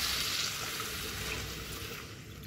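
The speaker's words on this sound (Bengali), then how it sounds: "এবার জল দিয়ে দেবো।" Water poured steadily into a cooking pot of khoira fish sour curry with new potatoes and tomatoes, a continuous close-up rushing splash that holds evenly throughout.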